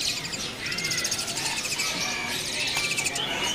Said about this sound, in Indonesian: ready juga nih burung kenari ya. Ini kenari loper gelap.